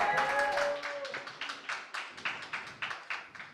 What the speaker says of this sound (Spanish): El aplauso es para María Bernal